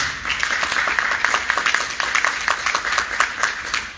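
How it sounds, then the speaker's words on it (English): Applause for a police captain at a precinct community council meeting held in a school, a steady round of many hands clapping at moderate volume for several seconds, dense and continuous with no talk over it. "please give a round of applause to our captain"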